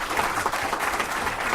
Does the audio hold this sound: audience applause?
yes